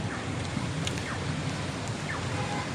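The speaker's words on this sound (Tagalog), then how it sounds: "Kasi malakas yung ulan" Heavy rain pouring outdoors on a street crossing, a dense, loud, continuous hiss with scattered brighter drops, no speech.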